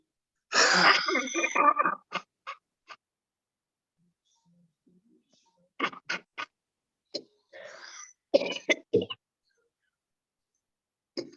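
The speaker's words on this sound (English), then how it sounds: "When you get this cough, please clear your throat." Close, loud bursts of coughing followed by scattered short throat-clearing sounds and rasps, separated by quiet pauses, during a yogic lung-cleansing breathing exercise.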